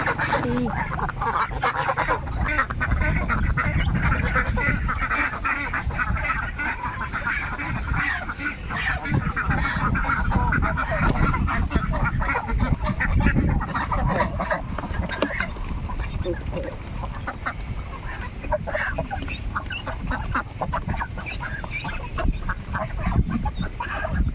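Steady chorus of ducks quacking and honking across the whole stretch, busy and fairly close, with a faint voice now and then in the background.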